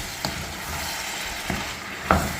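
Biryani with potatoes and carrots is stirred and fried in a pan, giving a steady close sizzle broken by three short scraping clatters of the stirring spoon.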